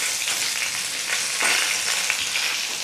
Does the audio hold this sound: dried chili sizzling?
yes